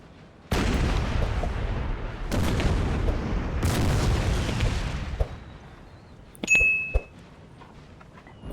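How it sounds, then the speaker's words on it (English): Artillery fire in Napoleon Total War, with Austrian guns pounding marching French troops: three heavy booming blasts with long rumbling decays, then a sharp metallic clink and a short ringing burst. "Austria's going to get some great arty hits here"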